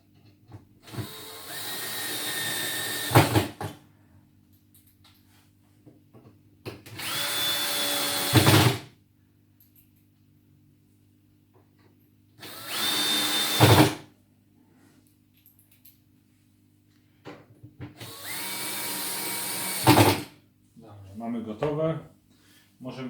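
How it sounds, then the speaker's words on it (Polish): A cordless power drill drives screws to fix the door onto a 50x50 cm aquarium cabinet, four separate whirring bursts of two to three seconds each with quiet pauses and brief handling noise between them. "Jak już będziemy mieli, to możemy przykręcać."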